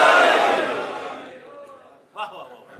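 A large crowd at a majlis for Safar in Karbala shouts a slogan in unison, a loud collective roar that fades over about two seconds before a single voice speaks briefly.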